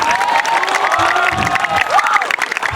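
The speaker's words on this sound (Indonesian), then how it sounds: "tepuk tangan, banyak tepuk tangan" A crowd at a Balinese temple festival Calonarang performance claps and cheers loudly and steadily, with shouts and whoops rising over the dense applause.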